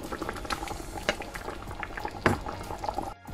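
Betawi semur stew, made with tomato sauce, tamarind and soy sauce, simmers in a covered pot, giving a quiet, steady bubbling with scattered louder pops.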